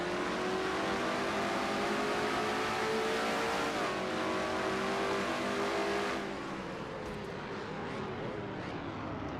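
The number 3 GM Goodwrench Chevy race car in a racing video game holds a loud, sustained engine drone at high revs, then eases off slightly as the throttle lifts near the end; no talking.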